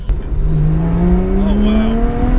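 Lotus sports car engine accelerating hard and pulling up through its gears, a loud, steady rising drone with pitch climbing across the clip, close and continuous from inside the moving car.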